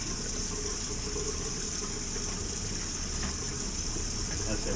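Water rushes steadily through a lavatory grid drain during a full basin flush, giving an even, continuous gushing noise that holds from start to end.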